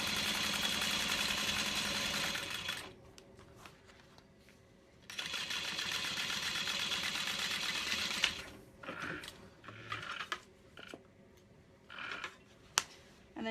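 A sewing machine stitches a vinyl bag seam in two long, steady runs of close mechanical whirring, separated by quiet pauses with soft handling noises and a few brief clicks afterward.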